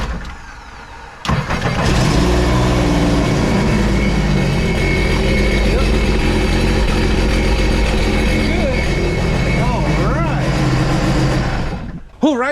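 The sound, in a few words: Sea-Doo RXT 260 brand new engine running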